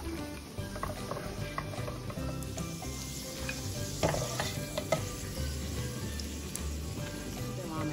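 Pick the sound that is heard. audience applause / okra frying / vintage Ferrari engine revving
okra frying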